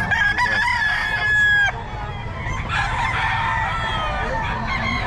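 Several gamecock roosters crow loudly nearby at a rooster sale in Bulacan, Philippines, their calls overlapping, with faint background chatter and general outdoor noise.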